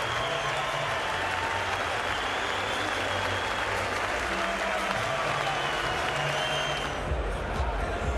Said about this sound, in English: You deserve all the applause you get as you walk off for 98.